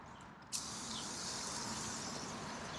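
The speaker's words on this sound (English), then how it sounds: "now we're going to put water on it right away." Water sprays lightly from a hose onto freshly spread grass seed, starting abruptly and continuing as a soft, steady outdoor hiss.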